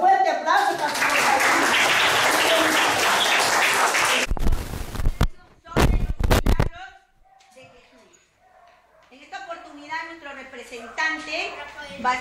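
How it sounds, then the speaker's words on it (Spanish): An audience at a school reading contest claps loudly for about four seconds, then the applause breaks off into a few sharp bursts before quieter talking voices take over. "Otro fuerte aplauso para"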